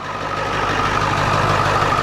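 Ford 7.3 liter Power Stroke diesel truck engine running steadily, a continuous low rumble with a faint higher whine on top, close and constant throughout with no talking.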